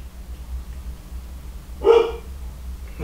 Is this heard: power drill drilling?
no